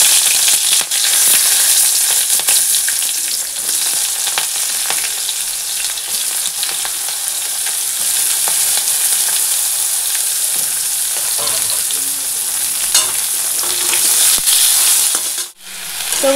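Potatoes frying in oil with cumin seeds and green chili, a loud, dense, continuous sizzle heard up close, with faint stirring scrapes and a brief dip near the end, no speech.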